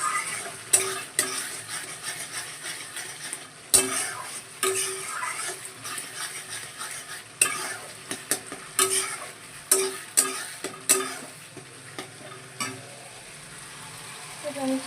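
Spice paste for a Bengali chicken kosha curry is stirred and fried in oil, with steady sizzling and repeated scrapes and clinks of a spoon against the pan at close range.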